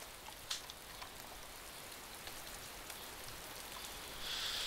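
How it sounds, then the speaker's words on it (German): Steady rain falls in the video game DayZ, a dense, even hiss of drops with a few brighter spatters, continuing alone without voices. "Es regnet."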